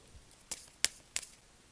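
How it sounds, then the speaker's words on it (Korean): Tarot cards drawn from a deck, three sharp crisp snaps or flicks spaced about a third of a second apart, close and clear over near silence. "카드 더 뽑아볼게요."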